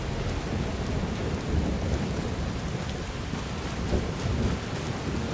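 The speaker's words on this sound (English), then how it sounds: "We go from an atmospheric fog to a nice atmospheric rain." Steady rain pours down with low thunder rumbling in the video game Skyrim, a dense continuous wash of noise with no voices.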